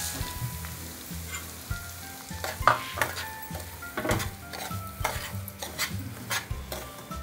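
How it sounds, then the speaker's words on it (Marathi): Semolina roasting in ghee in a pan, soft sizzling under repeated scraping and stirring strokes of a spoon, with light metallic knocks against the pan, close and steady. "पाव कप तूप मी टाकून दिलेलं आहे कारण रवा आपला फक्त दोन कप आहे त्यामुळे तेवढा एकदम टाकून मी भाजून घेणार आहे"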